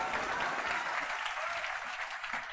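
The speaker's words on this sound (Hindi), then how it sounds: "एक बार इनके लिए जोर से ताली होनी चाहिए।" Loud, dense applause from a gathered audience of students, a steady wash of clapping for a student selected as panchayat secretary, sustained evenly throughout without talk.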